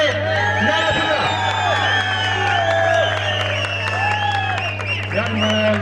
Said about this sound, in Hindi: जोरदार तालियां होनी चाहिए नियामतुल्लाह के लिए।